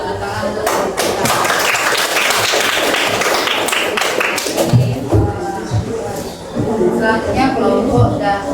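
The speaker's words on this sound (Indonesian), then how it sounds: "tepuk tangan untuk kita" A classroom group breaks into applause, scattered hand claps and taps mixed with chatter and talking voices, close and busy for several seconds.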